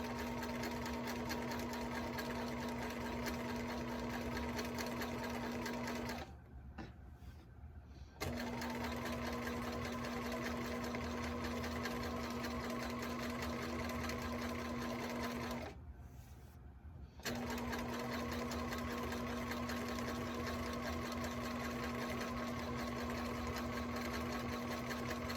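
A sewing machine hums steadily while stitching a T-shirt pillow, in two long continuous runs broken by short pauses, close and even in level with no talking.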